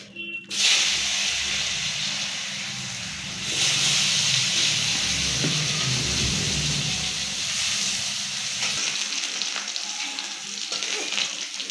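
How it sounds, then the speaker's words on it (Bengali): Steady sizzling of potatoes frying in hot oil, loud and close, with a continuous crackling hiss that swells partway through and carries on without speech. "এখন আমরা আলুটা হালকা ভাজা দিয়ে দেবো"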